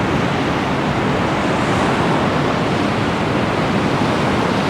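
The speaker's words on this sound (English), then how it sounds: "Here is the ocean." Ocean surf on a Florida beach in winter, a continuous loud wash of breaking waves with steady broadband roar and some wind on the microphone, close by and unbroken, with no voices.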